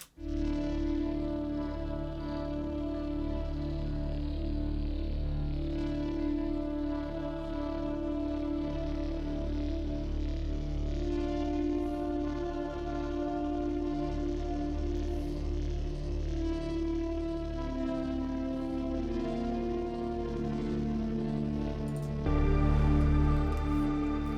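A warm, sustained synthesizer pad using the VHS Romance patch, with layered harmonic tones slowly shifting chords, washed in echo and chorus, playing alone throughout.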